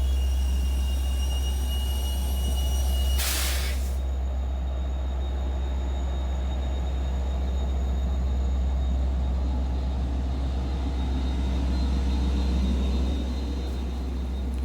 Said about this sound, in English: here's the locomotive, the DE30 AC that took us here